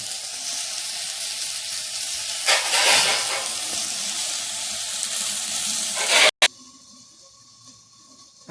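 Okra for vendakkai poriyal frying on medium flame, a loud steady sizzle and hiss with a burst of stirring midway, then a sharp clunk and a quieter, fainter sizzle as the pan is covered.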